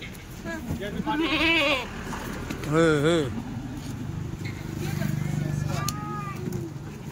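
Several goats bleat on a farm in separate, quavering calls spread across the stretch, close and clear, with people talking faintly in the background.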